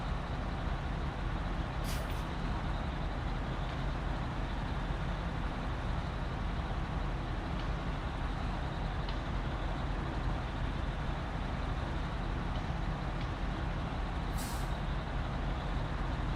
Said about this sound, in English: Enjoy the loud truck in your street in the evening.